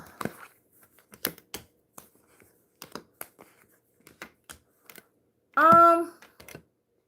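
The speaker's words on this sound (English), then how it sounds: "Let me do one more shuffle" Tarot cards shuffled by hand during a live reading, heard as a scattered series of soft, crisp clicks and riffles with quiet gaps, followed by a brief voiced sound.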